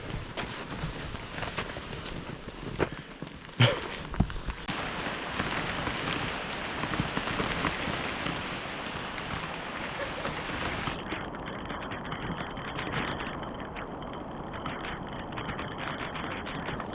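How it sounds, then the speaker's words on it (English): Pouring rain during hot tent camping on a steep route, a dense steady hiss of drops on surfaces lasting throughout, with a couple of brief knocks early on and no speech. "It's now pouring rain"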